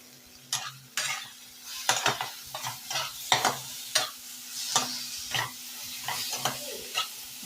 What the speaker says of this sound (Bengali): আবারও সব মশলাগুলোকে একসঙ্গে আমি কষিয়ে নেব।